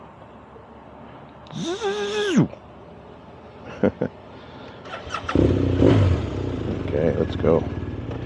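A Ducati Panigale V4S sport motorcycle near Austin, Texas pulls away after refuelling: a sharp rising rev whine, then rougher rumbling acceleration. Someone speaks briefly over it.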